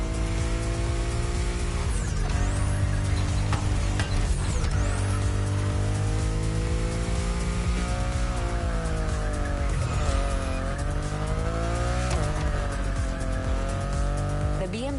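BMW i8 in the racing game The Crew Motorfest, engine rising and falling through gear shifts with repeated tire squeals and skids, loud and continuous, with a voice talking over it.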